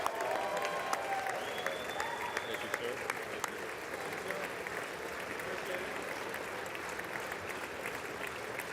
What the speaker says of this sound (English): one half of the room is on its feet applauding